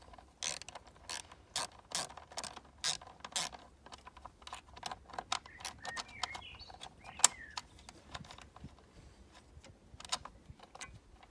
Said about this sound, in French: Pour l'enlever, il faut desserrer cette vis-là et cette vis-là.